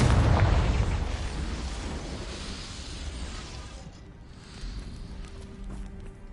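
The Confringo explosion spell in Hogwarts Legacy on PS5 erupts with a loud, booming blast at the start that rolls into a long, fading rumble and crackling debris.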